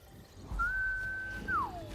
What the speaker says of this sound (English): and get the sprug whistle